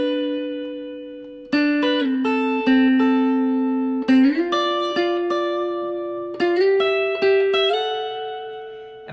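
Guitar playing the intro riff of a song, a sequence of clear picked notes and sliding double-stops with crisp attacks, steady rhythm, close and alone.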